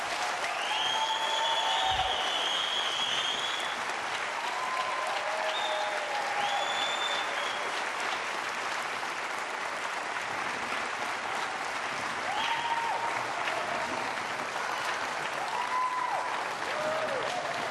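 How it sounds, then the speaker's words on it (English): A live audience at a televised gubernatorial debate in a performing arts center breaks into sustained applause, a dense, even roar of clapping with occasional whoops and cheers rising above it. "Now to our live audience, your chance to applaud the candidates."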